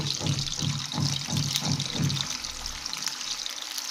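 Chicken pieces frying in hot oil, a close, busy sizzle and crackle with a few rhythmic stirring bumps early on before the frying settles into a steady hiss.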